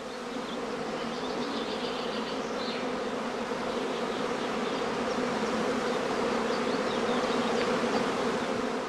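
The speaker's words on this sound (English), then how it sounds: "the bees continue to move about restlessly while humming loudly" Loud, dense humming of a honeybee swarm at a heather skep apiary, a steady buzzing drone with no pauses, close and continuous throughout.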